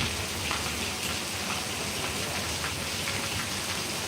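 Steady rain pours down in Panthawada, Gujarat, in a dense, even hiss, close and fairly loud, with no voices.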